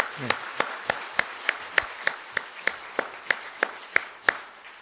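A church congregation clapping in a slow, steady unison rhythm, about a dozen crisp claps in a few seconds in a reverberant hall.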